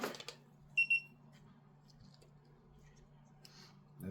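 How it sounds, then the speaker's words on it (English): A tiny 1s whoop drone with a freshly repaired BT2.0 cable gives a short pair of high, clear startup beeps near the start, then a low steady electrical hum carries on quietly underneath. "We got the startup beep."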